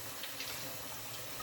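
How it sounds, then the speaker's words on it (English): Running water splashes at a bathroom sink while skincare product is rinsed off, a steady soft hiss that lasts the whole short moment. "and then you just rinse it off."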